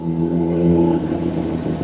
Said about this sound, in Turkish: motosikletin üzerinde gelen orijinal egzoz